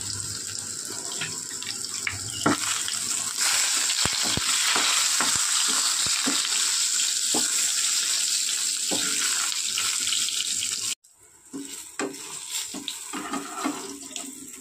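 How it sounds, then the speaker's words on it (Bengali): Eggplant pieces fry with salt in oil left from frying fish, a steady close sizzle with occasional stirring clinks, cutting out abruptly near the end before resuming more faintly. "মাছ ভাজা তেলের মধ্যেই বেগুনগুলো একটু নুন দিয়ে ভেজে নেবো লাল করে।"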